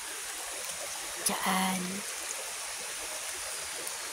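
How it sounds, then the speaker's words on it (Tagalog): Water from a natural spring in the rural provinces flows with a steady, close rushing, like a small stream. A short spoken remark briefly rises over it near the middle. "Diyan ang gagaling ang tubig ng tupsan. Ayan, nakita niyo yan. Yan, bukal. Spring"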